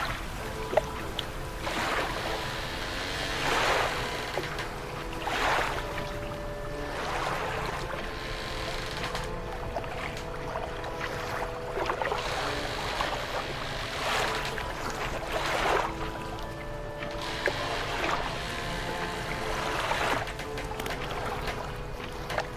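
A fishing boat in the game Dredge cruises at full speed with a steady engine drone and water wash, and whooshing swells of spray come and go at intervals throughout, with no voices.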